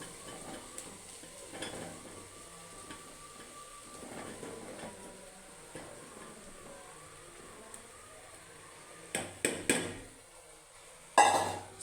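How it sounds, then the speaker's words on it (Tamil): About 150 grams of cleaned fish maw stirred in a hot pan, with a steady low sizzle and soft utensil scrapes throughout, then a few sharper clanks and knocks near the end, no talking. "இப்போ மீன் மக்கரை சேர்த்துக்கலாம்."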